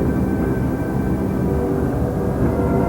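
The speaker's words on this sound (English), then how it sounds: "The airplane gets the forward push flying, in goes the rudder." A Glasair light aircraft flying an aerobatic hammerhead turn, its engine a steady, loud, continuous drone with a low rumbling tone that holds even throughout, no voices over it.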